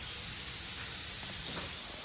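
Chicken pieces frying in hot oil in a pan, giving a steady, dense sizzle and hiss that holds evenly throughout, close and without any voices.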